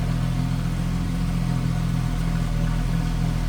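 A 1973 Triumph TR6 convertible's 2.5 liter inline six with three Weber two-barrel carburetors runs steadily at idle, a close, even low rumble with no talking.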